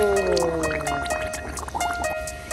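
A child blows bubbles underwater in a swimming pool during a first swimming lesson, giving soft gurgling, dripping water sounds close by, with adult voices talking over them.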